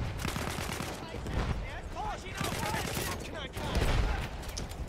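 Gunfire crackles in Battlefield 1 during a foggy forest battle, with rapid machine-gun bursts and scattered shots layered into a dense, continuous fusillade that sounds close and loud throughout, and nobody talks over it.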